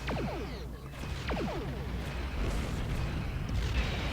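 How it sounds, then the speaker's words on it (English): Photon torpedo explosions in the space game Star Trek Online: several sharp zapping bursts and rumbling blasts over a continuous low roar of combat, with a voice speaking faintly in the background. "Good on your photon torpedo."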